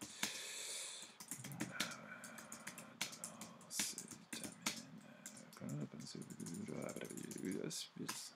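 Keys clatter on a computer keyboard as text is typed into a WordPress editor, with irregular bursts of clicks and short pauses, close and moderately loud, while someone speaks over much of the typing.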